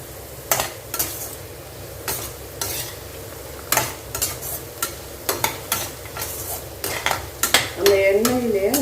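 Radish and carrot sautéing in a pan for vegetable pickle, with a dense sizzle broken by repeated sharp scrapes and clacks of a spoon against the pan, close and fairly loud, no voices.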